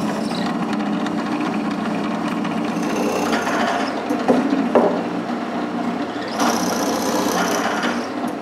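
A drill bores mating holes into a wooden case for a homemade CNC fourth axis, a steady close grinding rasp of bit in wood running without a break.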